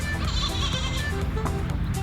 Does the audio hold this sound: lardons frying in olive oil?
no